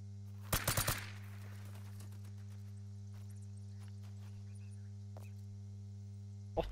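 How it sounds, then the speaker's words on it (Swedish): A quick burst of several gunshots in the hunting video game theHunter: Call of the Wild fires in rapid succession, then silence with a low electrical hum and a few faint clicks. "Skott."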